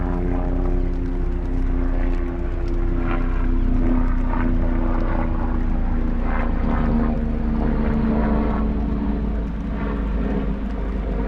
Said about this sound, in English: I can hear a police helicopter.